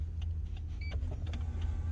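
Lexus LS500h power seat motor whirs steadily as the seat adjusts itself, a soft mechanical hum over a low cabin drone, close and fairly quiet with small clicks.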